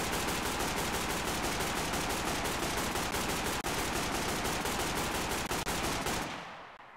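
Rapid automatic AK rifle fire in a video game with infinite ammo, a loud, dense, evenly spaced stream of shots lasting about six seconds before cutting off and fading.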